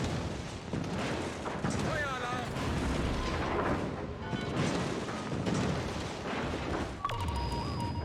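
A warship's secondary battery guns fire in a naval video game, giving repeated loud booms and crackling gunfire in a dense, continuous battle din, with a voice speaking over the barrage.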